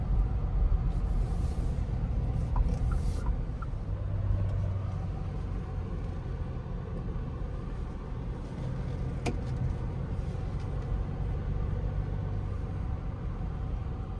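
Cabin of a 2025 GWM Tank 300 with the 2.4 turbo diesel on an everyday drive, giving a steady low engine and road rumble that stays even throughout, with no talking.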